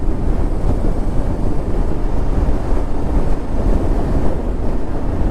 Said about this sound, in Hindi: इतनी तेज़ हवाएं चल रही है कि ये मुझे लग रहा है, चुभ रहा है मुझे।